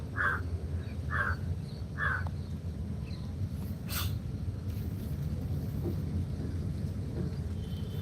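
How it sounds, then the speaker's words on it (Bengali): Crows caw overhead at dawn, three clear calls in a steady rhythm near the start, followed by a faint scattered call or two over a constant low outdoor rumble. "কাক ডাকছে আমার মাথার উপরে"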